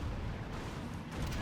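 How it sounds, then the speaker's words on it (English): Nuke cannons in the Rise of the Reds strategy game fire in a low, rumbling barrage, heavy booms blending into a continuous dense roar. "You bait the nuke cannons into firing on you on top of mines."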